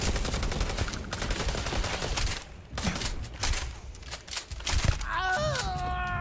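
Gunfire in the video game Starfield, rapid bursts of automatic shots in clusters with short gaps, loud and busy, followed near the end by a brief electronic warbling tone.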